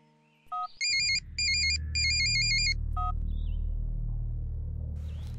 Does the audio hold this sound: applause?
no